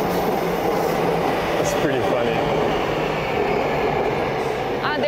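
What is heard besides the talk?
Seoul metro train running above the river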